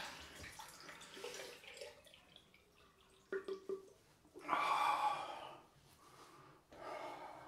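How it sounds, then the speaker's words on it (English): Cold tap water splashes as a face is rinsed after a straight-razor shave, soft intermittent splashing and running water at close range with a few breathy snorts and gasps between the rinses. "cold rinse."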